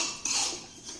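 A spoon scrapes and clinks against a pan while semolina is stirred for sheera, a short metallic scrape followed by softer rubbing, close and fairly quiet.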